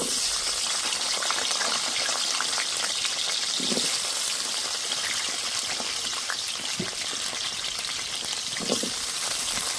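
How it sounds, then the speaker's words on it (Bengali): Diced potatoes frying in oil left over from frying paneer, a steady moderate sizzle with a fine bubbling hiss and occasional soft stirring knocks, continuous throughout. "পনির ভাজা তেলেই আমি আলুগুলো ভেজে নেব।"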